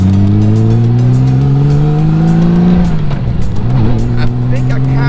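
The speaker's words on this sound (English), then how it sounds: "I kind of dig the sound of the exhaust with the baffle out." A Honda GL1500 motorcycle with the exhaust baffle removed rumbles loud and close, its deep throaty note rising with throttle, then settling back into a rough idle.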